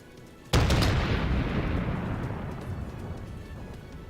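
A heavy naval gun salvo from battleships in the World of Warships sea battle game: one sudden, loud, deep boom that rolls on in a long, fading rumble, with no voices.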